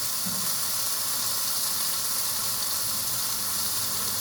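Spinach and potato bhaji cooking over a low gas flame, a soft, steady hiss and faint sizzle that holds constant without variation.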